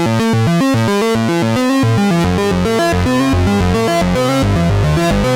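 A Moog synthesizer with reverb plays a rhythmic pattern of notes that blur into a washy, reverberant tail, sustained and loud throughout.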